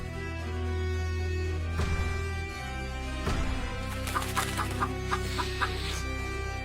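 A chicken clucks in short repeated bursts over a steady low background hum.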